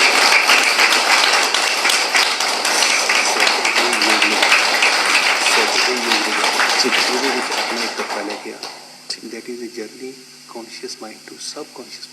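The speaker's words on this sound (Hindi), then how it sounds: "तो हमें वर्मा जी ने जगाया, तो इनके लिए एक बार बहुत जोरदार तालियों से आप धन्यवाद करें।" Participants at a yoga session clap loudly in thanks, a dense, sustained round of applause that fades out after about eight seconds, leaving a few scattered claps and a voice speaking.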